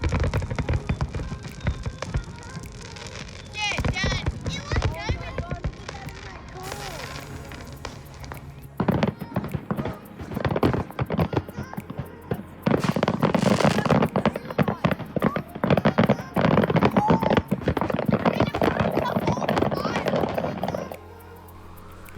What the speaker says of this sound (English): Here the fireworks light up the sky and then get to reflect in the ocean below.